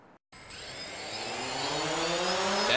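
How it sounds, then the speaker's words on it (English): A lifesaving drone's propeller gives a steady high-pitched buzzing whine that starts abruptly after a brief gap and swells slightly louder over a few seconds, close to the microphone. "That buzzing propeller may not sound pleasant, but it could potentially save lives out on the water this summer."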